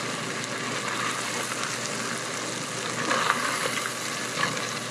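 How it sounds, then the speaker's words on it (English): Bacon crisping in a pan gives a continuous, even frying crackle at moderate level, with a few sharper pops and spatters standing out; no one speaks. "Bacon has to get crisp."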